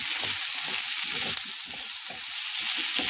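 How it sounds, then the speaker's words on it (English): Potatoes sautéing in a pan for pepper steak and potatoes make a bright, even sizzle, with soft bumps and scrapes of stirring underneath and no voices. "we're going to let that just saute until the potatoes get like nice and soft"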